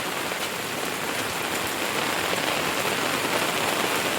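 Steady rain pours down on a surface in the Sundarbans, a dense, even hiss of drops that fills the whole span without pause or voices.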